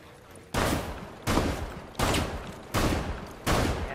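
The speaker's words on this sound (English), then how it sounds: "We have some shots at us." Gunfire in the video game Rainbow Six Siege: five loud, evenly spaced bursts, each a sharp blast trailing off, about three quarters of a second apart.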